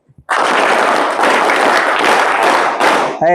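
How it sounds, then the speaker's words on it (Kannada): A group of students at a government high school event for anti-drug day clap hands together, a loud, dense burst of applause that holds steady for about three seconds before cutting off. "ಚಪ್ಪಾಳೆ ಚೆನ್ನಾಗಿ ಕಲ್ಸಿದ್ರಿ ಸರ್, ಸೂಪರ್ ಆಗಿ ಬಡಿತಾರೆ"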